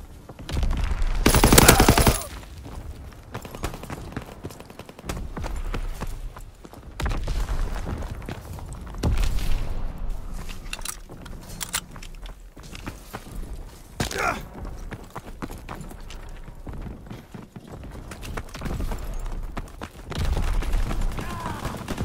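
Gunfire in the World War II shooter Call of Duty WW2, a loud burst of rapid shots early on followed by scattered distant bangs and booms, with soldiers' voices heard intermittently underneath.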